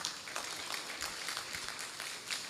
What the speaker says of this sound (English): I think that the panelists really deserve another round of applause.